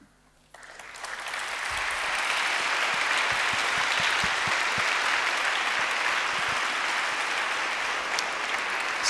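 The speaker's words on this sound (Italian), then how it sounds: "Scusate se strozzo l'applauso" Sustained audience applause after a talk, a dense, even wash of many hands clapping that starts suddenly and holds at a steady level throughout, without voices.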